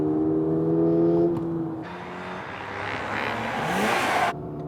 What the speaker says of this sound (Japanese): 初めて GR86 新型で筑波サーキット走ります。